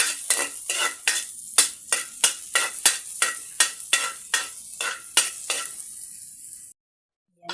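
Assorted vegetables are stirred and sautéed in a pan over a paper-fuelled fire, with rhythmic scraping strokes of a utensil about every half second over a sizzling background, stopping abruptly near the end.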